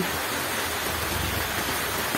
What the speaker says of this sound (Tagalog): so ang lakas ng ulan